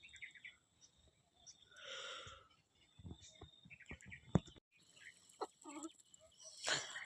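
Chickens cluck and chirp in short, scattered bursts around a rural village home on a foggy morning, fairly close and moderately loud, with faint background noises between calls.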